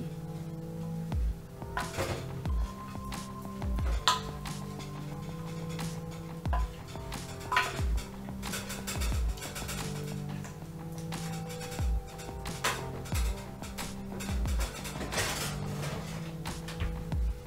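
Homemade granola toasting in a pan while being stirred, with irregular scraping and tapping clicks of the utensil against the pan over a steady low hum, fairly faint.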